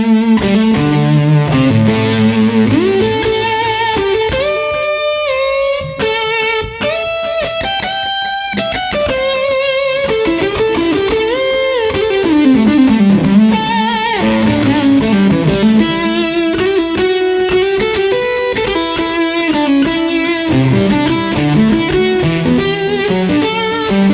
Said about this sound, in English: really like the sound of the fuzz face on its own without any pedals in front of it.